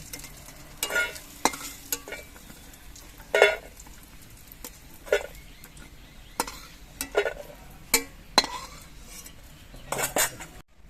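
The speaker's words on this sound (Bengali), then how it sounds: "বড়িগুলো আমি লাল রং করে ভেজে নিয়েছি আমি নামিয়ে নিচ্ছি" Fried lentil dumplings (bori) being lifted out of hot oil in a wok for a bottle gourd shukto, with repeated metal scrapes and clinks of a spatula over a faint background sizzle, close and alone without talk.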